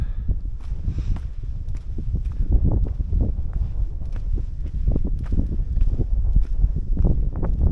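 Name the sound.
wind on a hill while hiking in the Peak District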